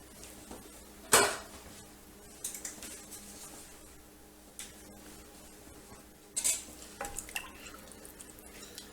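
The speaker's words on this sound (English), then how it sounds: "Give that a nice stir." A spoon stirs marinara sauce in a pot, making a few sharp clinks and scrapes against the metal with quieter shuffling in between, close and sparse over a faint background.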